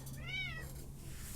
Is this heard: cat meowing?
yes